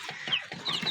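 Young desi chicks penned indoors on a poultry farm give soft, short clucks and a few thin high peeps, close by and unaccompanied by speech.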